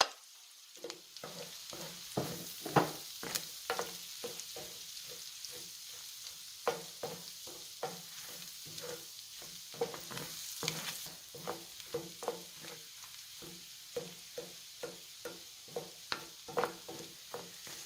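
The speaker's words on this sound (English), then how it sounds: "Next, I'll go in with the curry." Curry sizzling in a hot pan while a utensil stirs it, giving a steady soft frying hiss broken by repeated scraping strokes in an uneven rhythm, close and moderately quiet.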